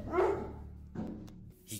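A dog gives a few short, low barks and a whine, fairly close, with a brief higher yelp near the end.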